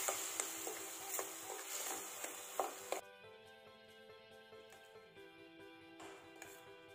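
Kotha (wood apple) mixture being stirred in a pan on a gas stove over medium flame. A spoon scrapes and taps steadily against the pan beneath a faint sizzle, quiet and close, with no talk.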